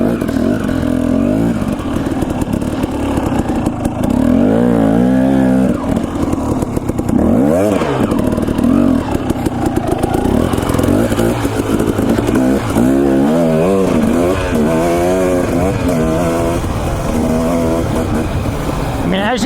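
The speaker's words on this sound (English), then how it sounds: "As you can hear, this bike is still running good." An enduro dirt bike engine runs loud and close on an Idaho trail ride, steady throughout with rising and falling revs and constant mechanical clatter; a voice talks over it.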